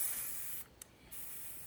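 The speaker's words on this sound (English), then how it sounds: "spray paint our craft ornaments with the glitter blast" Spray paint hissing from an aerosol can as craft ornaments are coated with glitter blast diamond dust paint, a steady near hiss with a brief pause midway.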